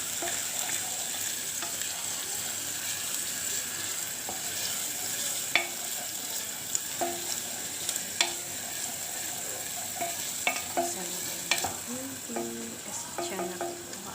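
Garlic and ginger sautéing in a pan for a chicken and saluyot (molokhiya) dish, a steady low sizzle with scattered clicks of stirring utensils against the pan, no talking.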